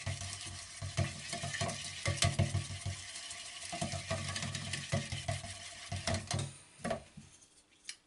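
Paint in an old pot being stirred, heard as a continuous clattering and scraping that carries on steadily and then tapers off into a few isolated knocks toward the end, with no one speaking.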